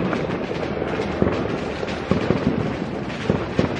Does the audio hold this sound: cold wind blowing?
no